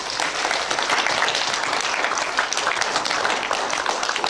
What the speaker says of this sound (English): Give those guys a round of applause, please.